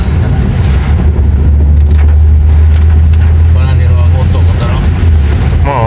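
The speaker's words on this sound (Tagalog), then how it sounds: "lakas ng ulan grabe" Loud wind and heavy rain from a typhoon roar against the mic, with a deep rumbling drone underneath and a voice speaking briefly in the mix.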